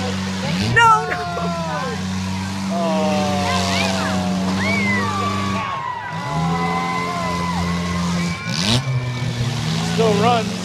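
A battered demolition derby car engine at a derby event keeps running and revs loudly with no drive, a steady close roar with rising whines, under excited shouting and talk from onlookers.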